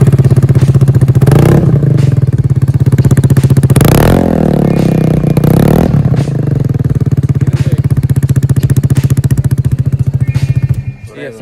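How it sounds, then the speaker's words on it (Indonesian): Motorcycle with a PS3 competition exhaust fitted to a standard engine, idling loud and close with a fast pulsing rumble, revved sharply a few times before settling and cutting off at the end. "PS3 competition di mesin standar nih kayak gini ya suaranya"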